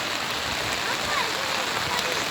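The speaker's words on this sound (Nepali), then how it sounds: "यो बाहिरपट्टि चाहिँ बाढी खोला हो" Flooded river in Kathmandu, Nepal, rushing past just outside a swimming pool area, a dense, steady broadband roar of churning water close by that holds constant throughout with no breaks.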